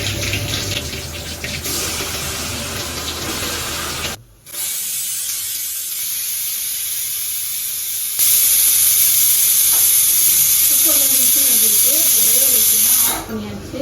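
Chicken frying in a hot pan, a loud continuous hiss and sizzle that cuts out briefly, then returns stronger and brighter, with a faint tonal sound near the end.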